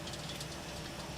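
Boeing 777 jet engine windmilling on the ground in X-Plane 12, a steady, dense broadband roar with a low rumbling undertone, continuous and even throughout with no voices.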